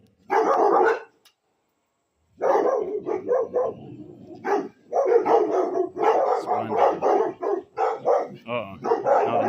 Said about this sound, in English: Attack hounds barking at butterflies.